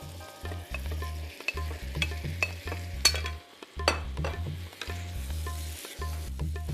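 Shrimp tossed and stirred in a spiced masala in a pan for a biryani, giving a steady loud sizzle broken by rhythmic scraping and tossing bursts throughout.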